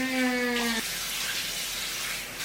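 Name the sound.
water running from a tap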